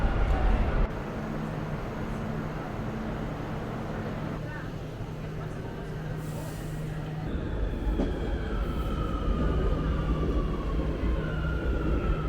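A Barcelona Metro train rumbles and rolls into a station, wheels squealing faintly over a low steady roar, with the noise swelling toward the end.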